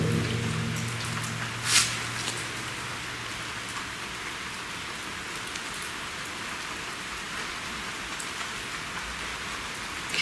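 Steady rain falling outdoors on a lane at night, a constant hiss of drops on surfaces with a few louder drips, alone and fairly close.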